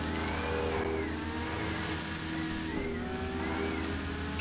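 A car engine in GTA 5 Online holds steady at high revs against the rev limiter, a continuous droning whine that stays loud and unbroken with slight pitch wavering and no voices.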